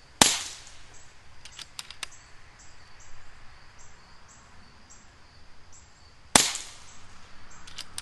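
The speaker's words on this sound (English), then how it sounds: "so that's where I'll shoot a couple more shots and we'll just see how she does." Two sharp, loud shots from an FX Crown MKII .30 caliber air rifle with a GRS stock, fired several seconds apart outdoors, each a crisp crack with a brief tail, while insects chirp faintly in the background.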